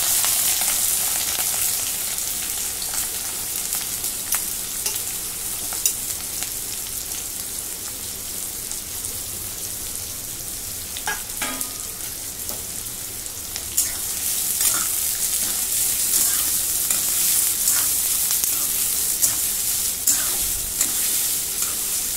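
Chopped onions fry and get stirred in a pan for pav bhaji, a continuous close sizzle broken by spatula scrapes and stirring clatter, without speech.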